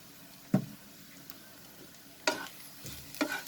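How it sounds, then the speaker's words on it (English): Onions sautéing in a pan for sooji upma, a soft continuous sizzle under three distinct scraping stirs, spaced irregularly, close and moderately quiet, no voices. "Just saute it till the rawness of the onion goes away"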